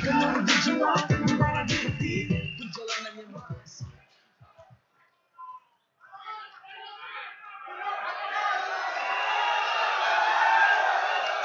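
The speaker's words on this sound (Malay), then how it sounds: "Tepukan gemuruh tambun" Crowd at a Malaysian political rally for Pakatan Harapan in Perak cheering, whooping and applauding, a broad sustained roar swelling in the second half after a man's amplified speech and a brief lull.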